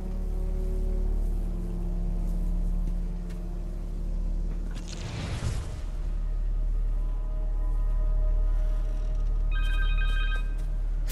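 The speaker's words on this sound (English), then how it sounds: "Phone." A phone rings in Marvel's Spider-Man 2 game, a short electronic trill surfacing near the end over a low steady rumble of background ambience, after a brief loud whoosh midway.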